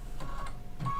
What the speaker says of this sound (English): It'll automatically tie off and cut the thread.